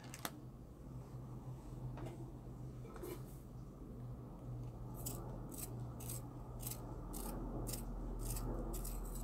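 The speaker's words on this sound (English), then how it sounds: "So what I'm gonna do for that is first sharpen my pencil." A pencil is sharpened by hand with a series of quick, crisp scraping strokes, one near the start and then a rapid burst of rhythmic rasps, close and quiet against a low background hum.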